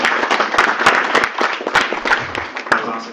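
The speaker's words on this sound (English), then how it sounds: "round of applause for." An audience at a technical talk claps steadily throughout, a dense patter of many hands at moderate loudness, with no pause.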